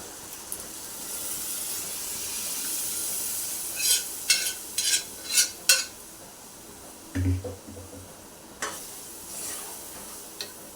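Dal is tipped into a hot pan with a steady background sizzle, followed by a burst of clattering spoon strikes and scraping as it is stirred, then quieter sizzling with a few last taps. The sounds are close, with no speech.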